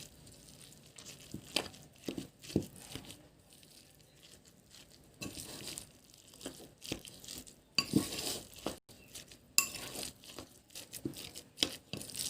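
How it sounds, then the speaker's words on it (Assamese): Gram flour (besan) being stirred and mixed in a pot for making bora fritters: quiet, irregular scraping, tapping and soft rustling strokes, close by but faint. "বেচনখিনি ভালকৈ মিলাই ল'ম"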